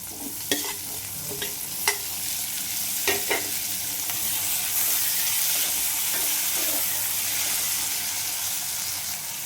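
Tomatoes go into a hot pan with onion for moong dal saaru, giving a steady, close sizzle and hiss. A few sharp stirring clicks sound early on, and no one talks.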